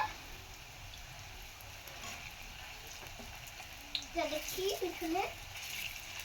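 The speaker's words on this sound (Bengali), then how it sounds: "আমি আর এক পিট ভেজে নিচ্ছি লাল লাল করে" Cabbage-leaf pakoras fry in hot fresh oil with a faint, steady sizzle, joined near the end by a few brief high chirping sounds over the bubbling.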